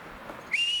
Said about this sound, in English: That was a whistle. I just got a whistle.